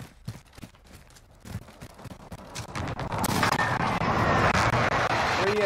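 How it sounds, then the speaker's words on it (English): Explosions and gunfire from a precision airstrike in the Modern Warfare video game. Scattered sharp shots come first, then a dense, rolling barrage of blasts that builds and stays loud to the end. "Allied precision airstrike incoming."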